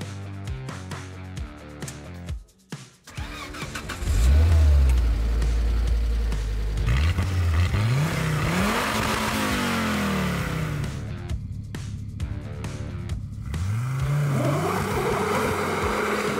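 A homemade turbo buggy with a 340 HP Volvo engine idles roughly, then revs hard in loud rising surges, drops back, and climbs again.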